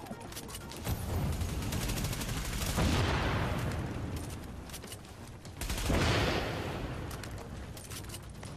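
Rapid submachine gun fire in the shooter game The Division keeps a dense, loud crackle going throughout, with two heavier booming swells midway. A voice murmurs briefly.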